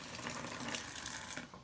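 Cups of water poured into a pot of mole sauce for chicken enchiladas, a soft, steady rush of liquid at low volume that tapers off near the end.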